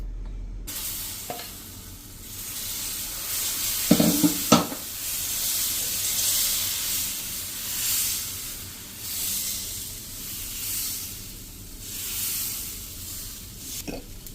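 Dal chilla batter sizzles on a hot pan with a steady, close frying hiss throughout and a couple of brief utensil clatters partway through.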